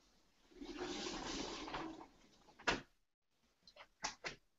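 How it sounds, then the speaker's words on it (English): A faint sliding door rumbles along its track for a couple of seconds, then bumps shut, followed by a few quiet knocks and clicks indoors. "Sliding door."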